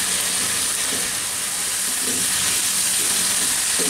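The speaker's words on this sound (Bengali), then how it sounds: "দিয়ে আলুটাকে আবার একটু এর সাথে একটু নেড়ে চেড়ে ভেজে নিতে হবে।" New potatoes frying in hot oil with spices, a loud steady sizzle and crackle close up, with occasional stirring scrapes underneath.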